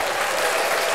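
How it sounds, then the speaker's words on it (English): Audience applause during a podcast recording, a steady wash of clapping that holds at an even level for about a second with no voices over it. "That shit deserves an applause."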